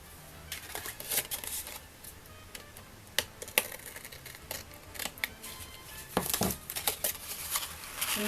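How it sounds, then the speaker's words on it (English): Scissors trim the overhanging edge of a gatefold shutter lens card, giving a run of sharp, close snips and crisp paper clicks at an irregular pace, with a denser cluster of cuts near the end. "It's hanging over a bit, so I'll trim that off."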